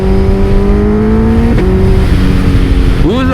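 Suzuki Hayabusa inline-four motorcycle engine revving close by, a steady mechanical drone that holds pitch, dips briefly, then climbs sharply in a quick rev near the end.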